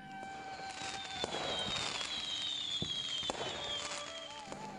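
Fireworks bursting in a dark night sky over a festive city, with sharp cracks and pops, whistling rising trails, and crackling under a steady background rumble, several bursts spaced across the scene.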